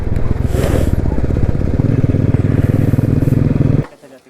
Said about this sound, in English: I'm telling specifically for the Royal Enfields because I'm driving this right now.